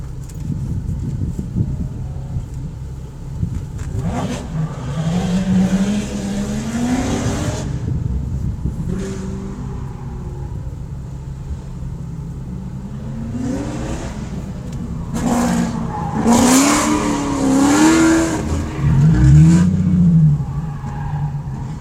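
A Nissan 370Z Nismo sits near the line at an SCCA autocross event in Grand Forks, North Dakota, its engine idling and rising through several revs, with louder revving bursts toward the end.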